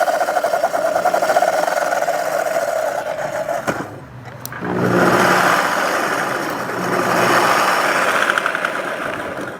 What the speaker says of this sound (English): It seems like the bowl is not even attached to the spinner anymore for some reason, because it's just spinning without the bowl.